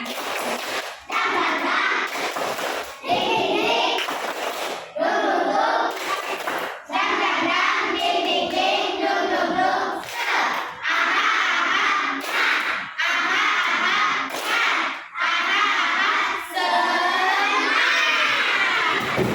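A group of schoolchildren performs a rhythmic clapping chant in a classroom, shouting words in unison between sharp, regular bursts of claps, loud and close throughout.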